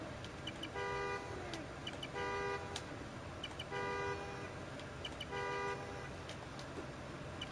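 Car horn in the Spider-Man: Miles Morales video game, set off from a key fob: four short honks at regular intervals, each a bright buzzing toot, heard at moderate distance over continuous city ambience.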